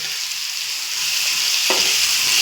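Ground ginger, garlic and green chili paste sizzles in hot oil, a loud continuous close-up crackle that swells slightly as it settles, with no talking over it.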